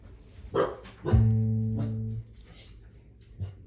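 A dog barks a few times up close, short sharp barks with one longer drawn-out bark in the middle, heard at an evening concert setting.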